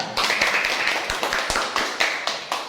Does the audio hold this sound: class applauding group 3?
yes